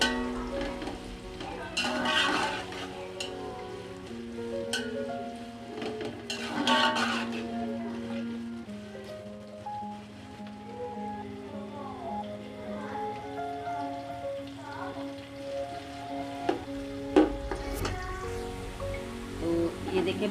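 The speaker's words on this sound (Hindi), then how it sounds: "तो जी ये ऑयल गर्म हो चुका है, इसमें हम डालेंगे प्याज। अच्छे से इनको ब्राउन करना है प्याज़ों को।" Chopped onions frying in hot oil for chicken pulao, a steady crackling sizzle that runs under music throughout.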